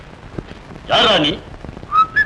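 A man whistles a short melodic phrase in a Tamil film scene, one sustained wavering run of notes followed by a couple of brief chirps, close and clear over a quiet background.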